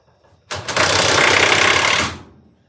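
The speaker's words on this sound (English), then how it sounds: "So I think we're just going to throw some screws into it and send it." Power drill driving screws into an MDF bracket for an HO scale model railway overhead yard, one continuous loud whirring burst of about one and a half seconds, close by, with no talk.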